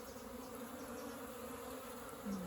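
Honeybees at a hive that is still raising brood, with pollen coming in, buzzing as a dense, continuous drone close by, steady and unbroken for the whole stretch with no voices.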